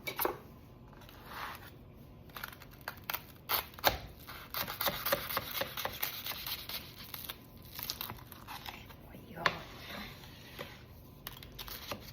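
A knife cuts through a hot sourdough chicken sandwich, giving close crackling, crunching and crinkling bursts as it saws through the crust, irregular and moderately loud over about twelve seconds.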